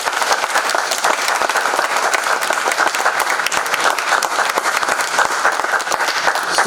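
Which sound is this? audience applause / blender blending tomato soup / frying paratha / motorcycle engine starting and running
audience applause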